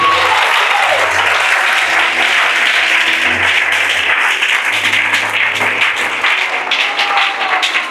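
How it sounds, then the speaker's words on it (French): A church audience applauds and cheers continuously for eight seconds, a dense, loud wash of clapping with a few voices mixed in. "On acclame Jésus."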